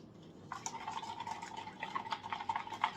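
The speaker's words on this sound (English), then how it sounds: "we're just going to give it a quick mix" Bolillo dough ingredients quickly mixed in a bowl, a soft steady stirring and light clinking with liquid sloshing, faint and close, no talk.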